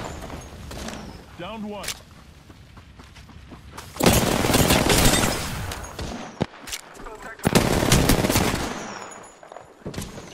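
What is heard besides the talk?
gunfire in the video game Apex Legends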